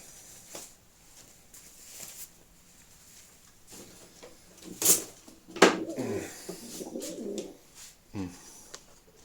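A Polish sport pigeon from 2016 coos in soft repeated phrases close by, with brief louder bursts of wing flutter and rustling in between.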